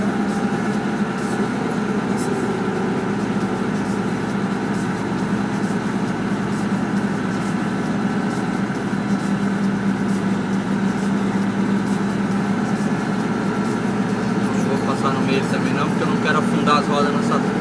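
A car creeps slowly along a dirt farm road, its engine a steady low hum with little change in pace, close and continuous throughout.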